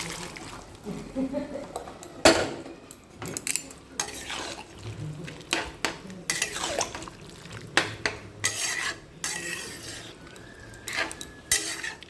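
Peas tipped into a pot of spiced curry and stirred, with intermittent clanks and scrapes of a spoon against the metal pot, close by amid quiet kitchen background.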